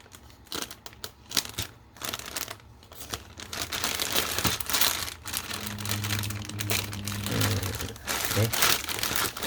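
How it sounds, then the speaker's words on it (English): Plastic bag holding parts of a 2017 Revell Germany 1/25 scale 1958 Corvette model kit crinkles and crunches up close as it is handled and pulled at, in steady irregular rustling bursts with no talk. "let's open the bag of goodies"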